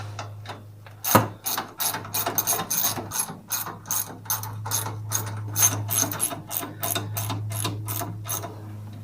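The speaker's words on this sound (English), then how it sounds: "So we get those bolts in and we tighten them up a little." A hand ratchet tightens the seat bolts on a Massey Ferguson GC2300 compact tractor, giving a long run of quick, close metallic clicks in a steady rhythm over a low constant hum, with no talking.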